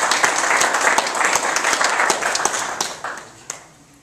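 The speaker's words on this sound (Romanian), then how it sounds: "Și vreau să-l aplaudăm." An audience applauds at a community commemoration in Radauti, Romania, a steady dense burst of many hands clapping that holds strong before thinning and fading toward the end, with no talk over it.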